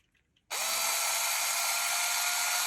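A power drill bores a hole through a toy building brick, starting abruptly after a short quiet moment and then running at a steady, loud, high-pitched whine to the end.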